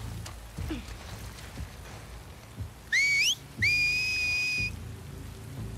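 A character in the video game The Last of Us Part II whistles two rising, piercing notes, the second held longer. Steady rain patters underneath with faint scattered thumps.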